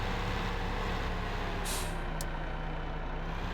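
A truck in the video game Farming Simulator 15 drones with a steady, dense engine roar, and a short hiss of air brakes cuts through partway.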